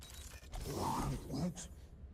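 A door mechanism in the Guardians of the Galaxy video game creaks and grinds open, a short, quiet mechanical groan with a couple of strained swells.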